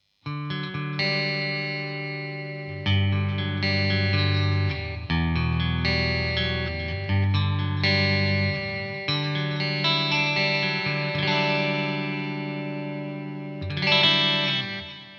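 Fender Player Telecaster electric guitar played clean on the neck and middle pickups, strummed chords and single-note runs ringing with light chorus and reverb, loud and close with no talk.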